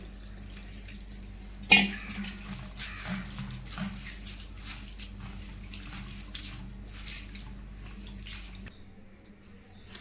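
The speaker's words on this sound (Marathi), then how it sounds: "आता आपल्याला तीन ते चार पाण्यामध्ये स्वच्छ धुवून घ्यायचे आहे" Chopped fenugreek leaves rinsed by hand in a vessel of water at home, with a soft sloshing, trickling and dripping wash, a brief louder splash early on, fairly close and steady, no talking.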